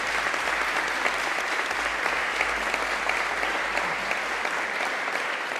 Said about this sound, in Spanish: Y yo pido un abrazo y un aplauso para estas tres mujeres